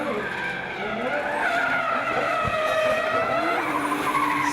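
Pro-Sport drift car at a D1NZ event in Wellington, tires skidding and squealing in a sustained screech over a roaring high-revving engine, loud and close throughout.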